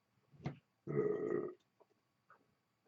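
A single loud, close burp lasting over half a second stands alone on a breakfast-drinks podcast, just after a brief short sound, with quiet before and after.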